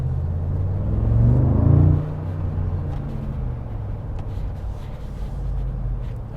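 Deep V8 biturbo rumble from a Mercedes-Benz G63 AMG with side exhaust pipes while driving, rising briefly in a short rev before dropping back to a steady low drone.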